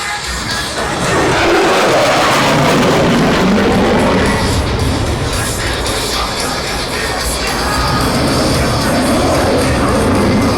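An F-16 fighter jet makes a high-speed pass at the Aero India airshow, a loud, sustained broadband roar that fills the whole stretch, with crowd noise mixed in beneath it.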